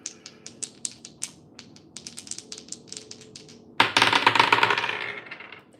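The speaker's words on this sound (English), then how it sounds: "We're gonna roll the dice and see what we're talking about today." Dice are rolled for an astrology-style reading: light scattered clicks and taps come first, then a sudden dense rattling clatter that fades over a couple of seconds, close and with no talk.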